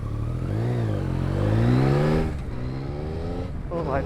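A Yamaha XSR 900 retro-styled motorcycle engine pulls hard and revs up, its pitch rising smoothly and loudly, then dropping back and climbing again near the end, recorded close by on a road in Japan.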